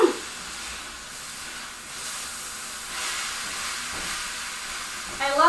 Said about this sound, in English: I love the sizzle noises.